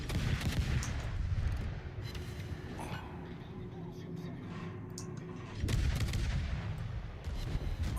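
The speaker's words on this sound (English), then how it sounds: "these guns are quite fast firing, which is nice." Naval guns firing in the World of Warships video game, heard as heavy booming salvos and rumbling blasts in dense, continuous game audio with explosions layered over one another.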